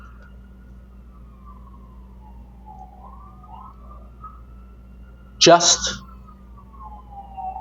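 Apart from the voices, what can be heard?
emergency vehicle sirens in city street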